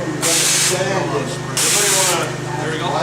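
Sprayer hissing as it applies coating to a commercial metal roof, two loud sustained bursts of spray close by with a steady engine-like hum underneath and voices talking in the background.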